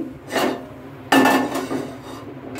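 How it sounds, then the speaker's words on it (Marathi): A metal pan is set down on a gas stove with a soft clank, followed by a sharper, louder clatter and a few lighter scrapes and knocks nearby in a quiet kitchen, with no one speaking. "आता सर्वात आधी आपल्याला गॅस पेटवून घ्यायचा आहे आणि त्यावर मी हा पॅन ठेवते"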